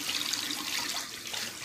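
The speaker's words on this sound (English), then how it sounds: "So I'm going to rinse this off in cold water this time." Cold tap water running over a razor in a sink during a wet shave, a steady hissing splash with slight fluctuations, close and continuous with no speech.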